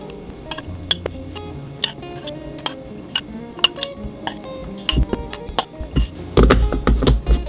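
A spoon scoops TVP into a bowl with a string of sharp metallic clinks and taps, spaced irregularly, ending in a busier cluster of scraping knocks close by.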